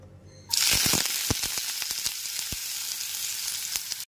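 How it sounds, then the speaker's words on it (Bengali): Chopped onions drop into hot mustard oil and burst into a loud, steady sizzle, with a few clicks of stirring scattered through the frying; no one speaks. "গ্যাসের ফ্লেমটা লো টু মিডিয়ামে রেখে পেঁয়াজগুলোকে ভেজে নেব।"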